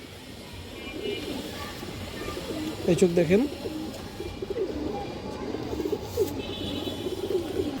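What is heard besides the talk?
pigeons cooing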